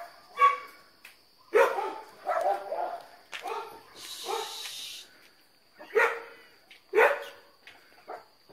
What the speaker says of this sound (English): That's why the dogs is going crazy.